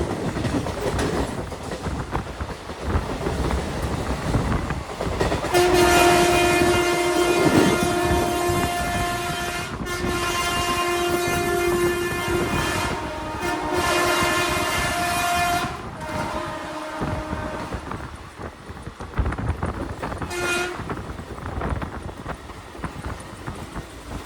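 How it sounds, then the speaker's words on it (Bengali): The Howrah–Sahibganj intercity express runs at a flat 110 km/h, overtaking a Howrah–Tarakeswar local, with a loud continuous rumble and rattle, repeated long horn blasts in the middle and one short blast near the end. "আমাদের ট্রেন কিন্তু এখন ফ্ল্যাট 110 কেমপিএইচে ওভারটেক করছে হাওড়া তারকেশ্বর লোকালকে"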